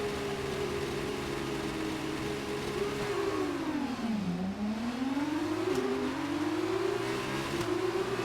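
F1 2019 race car engine revving on the grid at a race start: a loud, continuous high whine that holds steady, dips and swoops down in pitch, then climbs back up and wavers, with no talk over it.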